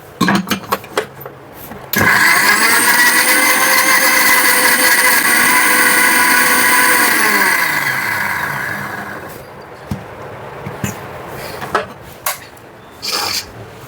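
A mixer grinder blending tomatoes whirs loudly for several seconds, a steady high motor drone that winds down, with clatter before and after.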